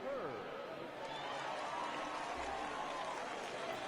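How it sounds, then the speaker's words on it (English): Stadium crowd in MLB The Show cheering and applauding as a batter steps up to the plate, a steady broad roar at moderate level with a commentator's voice over it. "the fans stand up and cheer while Hurd gets up to bat"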